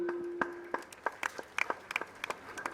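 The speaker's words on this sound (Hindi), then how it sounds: "तो एक बार तालियां हो जाए इन लोगों के लिए" Sparse, uneven claps from a few people in the crowd at a school annual function, faint and irregular, with distinct individual hand strikes rather than full applause.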